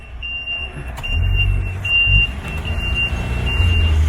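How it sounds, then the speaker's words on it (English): Two ten-wheeler trucks meet on a Philippine road and pass a multi-cab, with a steady low engine rumble rising and falling and a thin high electronic beep tone running continuously over it; no one speaks. "2 10-wheelers are meeting one another, which makes us here, the multi-cab we're riding, make it hard for us to go through as well."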